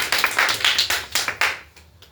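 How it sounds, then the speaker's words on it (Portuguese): Church congregation clapping in short, uneven bursts, about half a dozen close, sharp rounds of hand claps that stop abruptly, leaving near quiet. "E as palmas para Jesus."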